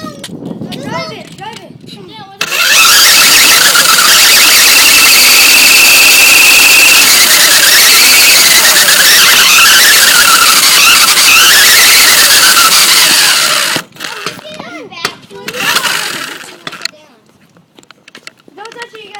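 A toy car driven by children squeals with a loud, continuous wavering whine for about eleven seconds, then cuts off abruptly; kids' voices and chatter come before and after it.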